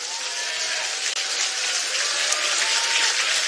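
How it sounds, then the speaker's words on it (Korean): An audience at a People Power Party political rally in Seoul bursts into loud, sustained applause, a dense wash of clapping hands that carries on evenly with no speech over it. "큰 박수 부탁드립니다."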